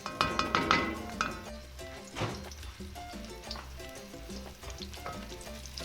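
Little onions, momoni, koobi and crushed black pepper fry in olive oil in a pot for a cabbage stew. A burst of clinking stirring strokes comes first, then a steady close sizzle continues on its own.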